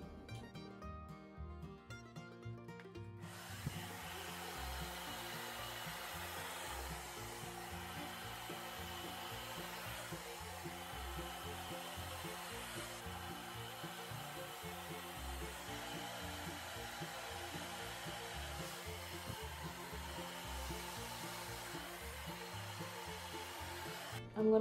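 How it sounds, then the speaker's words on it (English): Steady, continuous blow dryer roar kicks in after a few seconds and runs unbroken while hair is dried section by section, with a faint hum underneath and no speech. "So I'm just going to take my hair section by section and just blow dry them."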